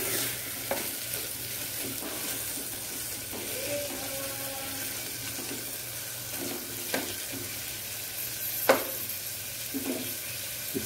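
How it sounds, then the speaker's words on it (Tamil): Carrot, kohlrabi and beans are sautéed in a pan for a kodo millet vegetable biryani, giving a low, steady sizzle broken by occasional scraping stir strokes and light clatter. "கேரட் போட்டுக்கிறேன். நூக்கல் பீன்ஸ் எல்லாம் கொஞ்சம் நல்லா வதக்குவோம்."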